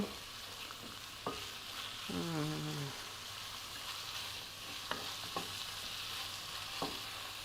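Pork stir-fried with salted fish and ginger in a hot pan, a steady sizzle with occasional utensil scrapes and clinks, close and fairly loud, no talking.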